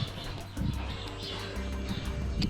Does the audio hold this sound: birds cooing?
yes